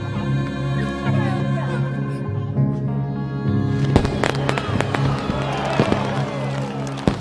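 Fireworks at a winter celebration in 1885 Montreal: a series of cracks and bursts with fizzing trails over a sustained musical backdrop, growing busier and louder toward the end.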